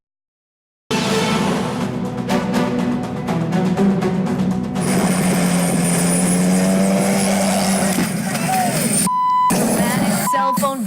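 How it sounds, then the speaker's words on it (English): A tour helicopter's steady rotor drone fills the clip, loud and continuous, with brief electronic beeps near the end. "cell phone video showing a tour helicopter seconds before it crashed into the ocean"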